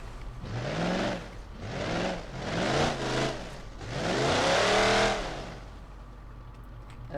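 Plymouth Cuda Hemi muscle car engine in BeamNG.drive, loud and close, revving hard through several rising pulls with gear-change dips between them, then easing off toward the end.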